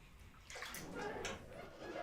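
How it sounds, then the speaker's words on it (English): Water runs steadily into a bathtub, a continuous rushing splash with shifting sloshing tones that stays close and fairly loud for the whole stretch, with no talking over it. "hear the water?"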